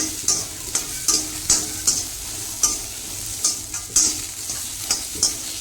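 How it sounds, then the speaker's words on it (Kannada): Sliced onions with dry red chillies frying in a pan for chutney, with steady sizzling broken by regular scraping strokes of a stirring spoon, close and fairly loud, no talk. "ಈಗ ನಾನು ಒಂದು ದೊಡ್ಡದ ಗಾತ್ರದ ಎರಡು ಉಳ್ಳಾಗಡ್ಡಿನ ಹಾಕೀನಿ ಈಗ ಇದನ್ನು ಸಮ ಅಷ್ಟೇ ಚೆನ್ನಾಗಿ ಫ್ರೈ ಮಾಡ್ಕೊಂಡ್ರಿ"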